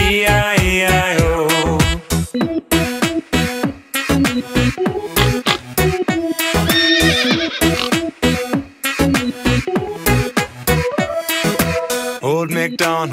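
Voices sing a rhythmic nursery tune with repeated neighing imitations, bright and close, over a bouncy accompaniment.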